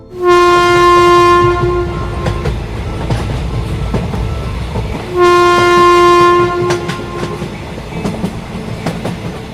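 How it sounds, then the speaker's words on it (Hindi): A cartoon train sounds two long, loud horn blasts over a rumbling, clattering run as it starts to move, with no speech. "तभी ये ट्रेन शुरू हो जाती है।"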